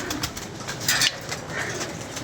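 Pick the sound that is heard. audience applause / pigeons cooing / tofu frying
pigeons cooing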